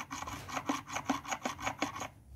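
A car's worn clutch release bearing grinding under load gives a close, rhythmic rasping scrape, pulsing about three times a second without any talk.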